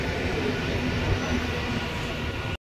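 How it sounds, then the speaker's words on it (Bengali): A train pulling into Hooghly Ghat station gives a steady, loud rumble of wheels and carriage noise heard from on board, continuous and close with no pauses. "দেখো হুগলি ঘাটে চলে আসলো ট্রেন।"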